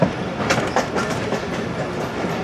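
The 171 Up Sialkot Express rumbles steadily near Sambrial station with a loud, close, continuous roar and faint rhythmic wheel clatter as it slows.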